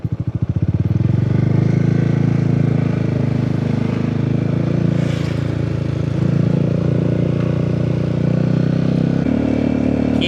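A motorcycle rides steadily along a riverside road beside the Mekong, its engine a continuous loud drone with brief surges in pitch, close and unbroken for the whole stretch with no voices.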